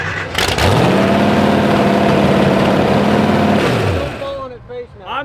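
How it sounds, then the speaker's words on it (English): A 550 hp carbureted car engine is revved while its carburetor is tuned: a loud, close roar that climbs, holds steady for several seconds, then drops back as voices start up. "So when he revs it, it goes lean."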